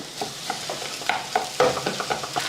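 A spoon stirs chicken masala in a pan for chicken bonda, the mix also holding turmeric, salt and mashed boiled potato; soft irregular scrapes and light sizzling come up close and steady, with no voices.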